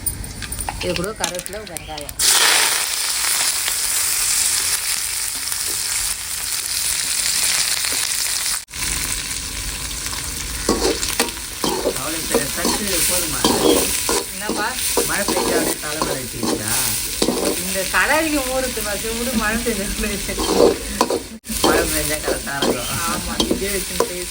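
Fennel seeds and cloves frying in hot oil in a village kitchen for a country chicken curry, a steady close sizzle with stirring scrapes throughout and a voice talking over it.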